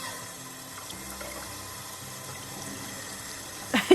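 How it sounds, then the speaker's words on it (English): Water runs and splashes steadily from a tap in a visual novel video game, a soft continuous rushing stream with a slightly louder splash at the very end. "As the cold water splashes my face"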